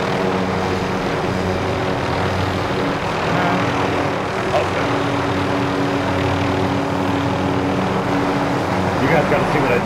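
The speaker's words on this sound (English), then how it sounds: "Get in the chopper, girl." A helicopter in Call of Duty Warzone drones continuously at close range, a steady thrumming engine and rotor roar with a faint low whine over the whole stretch.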